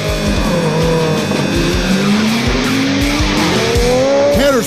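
Ferrari and Porsche supercars race hard through tight right and left corners, engines roaring close and loud as they shift through the gears, with tires squealing and rising revving as a car passes.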